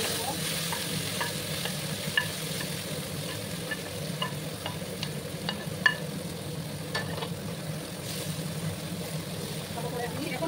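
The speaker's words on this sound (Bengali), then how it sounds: "এবার আমি এই যে শিমের বাটাটা দিয়ে দেবো।" Bean paste sizzling and frying in a pan with dried red chilli and nigella seeds, a steady dense crackle with scattered sharp pops, stirred throughout, close and moderately loud.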